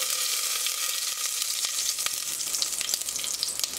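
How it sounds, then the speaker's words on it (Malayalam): Whole spices, including cumin, cardamom and pepper, sizzle and crackle in hot oil in a cooker with a steady close frying hiss and small pops. "ഓയിൽ നന്നായിട്ട് ചൂടായതിന് ശേഷം ഇതിലേക്ക് നമുക്ക് സ്പൈസസ് ഇട്ട് കൊടുക്കാം."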